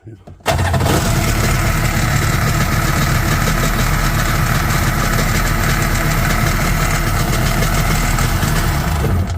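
A Kawasaki ZXi 1100 jet ski engine, fitted with a primer kit, roars to life after a short pause and runs loud and steady throughout, close up.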